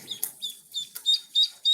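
A pet duck gives a series of short, high calls, about half a dozen in quick uneven succession, faint and close in a quiet room.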